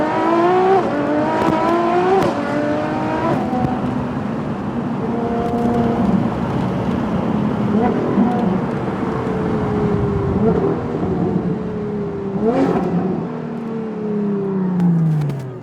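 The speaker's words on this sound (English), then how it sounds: "LaFerrari, custom exhaust system." A LaFerrari fitted with a custom exhaust system roars along the road, its engine note rising and falling through gear changes, loud and close throughout, with a sharp rev spike near the end.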